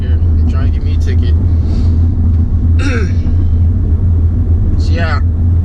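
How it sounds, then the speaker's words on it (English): Low, steady road rumble fills the cabin of a 2016 Volkswagen Jetta SE TSI while driving, with a few brief squeaks and higher sounds popping up over the constant hum. "There's a little bit of road noise"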